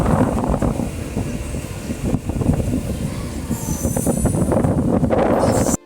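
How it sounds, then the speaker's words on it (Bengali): A train rumbles close by as it rolls into a station platform, its wheels clattering, and a high metallic squeal rises from the rails near the end. "এখন এক নম্বর প্ল্যাটফর্মে আরেকটা ট্রেন ঢুকে গেল"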